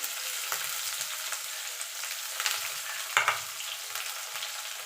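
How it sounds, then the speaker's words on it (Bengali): Pieces of bitter gourd fry in hot oil with a continuous close crackling sizzle, broken by a few sharp scrapes and knocks as a spatula stirs them in the pan. "এবার উচ্ছেটাকে একটু ভাজা ভাজা করে নেব।"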